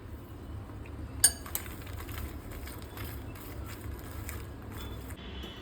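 A spoon stirs ghee, red chili, chaat masala and salt in a bowl, giving quiet, close clinks and scrapes with one sharper knock near the start.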